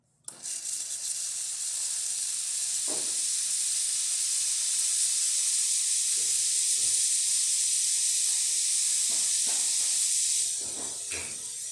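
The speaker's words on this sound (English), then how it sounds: "So let's test the steamer." A loud, steady steam hiss from a Breville espresso machine's steam wand runs almost continuously, with faint clicks and knocks beneath it before tapering slightly at the end.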